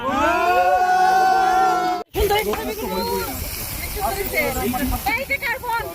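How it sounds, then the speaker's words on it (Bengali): Wind blowing across an open park near Calgary, heard as a steady broadband rush and buffeting on the microphone that runs nearly throughout, with people talking and chattering over it. "বেশি বাতাস তাই না"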